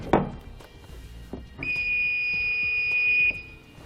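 A circuit tester clipped to a brown taillight wire on a 2018 GMC emits a steady electronic beep tone lasting under two seconds, after a few faint clicks and handling noises.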